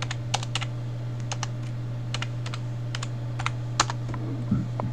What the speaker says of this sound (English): actually I just type make.